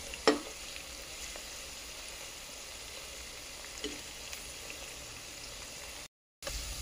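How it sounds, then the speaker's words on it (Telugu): Onions for chicken dum biryani sizzle steadily in hot oil as they fry toward brown, a quiet continuous crackle with an occasional faint clink of a utensil. "ఈ విధంగా ఫ్రైడ్ ఆనియన్స్ వేసుకొని ఇవి బ్రౌన్ కలర్ వచ్చే వరకు వేయించుకోవాలండి"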